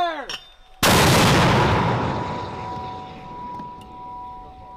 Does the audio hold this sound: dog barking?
no